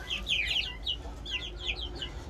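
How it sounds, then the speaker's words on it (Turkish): Silver Brakel chicks chirping and peeping in repeated high bursts over a steady low hum, fairly close, with no talk. "şu küçük silver brakel civcivler ne hale gelmiş"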